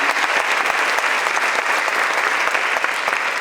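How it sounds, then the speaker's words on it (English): A warm, sustained round of applause from a seated audience at a community talk, many hands clapping in a thick continuous wash with a few sharper claps standing out, no voices on top. "So please give Carol a warm round of applause for what she's done for"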